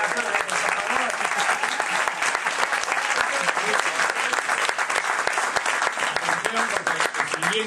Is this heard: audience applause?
yes